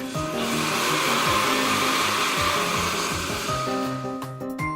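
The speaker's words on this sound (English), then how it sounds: "a blender," A blender's motor whirs loudly with a harsh grinding buzz, steady for several seconds before winding down.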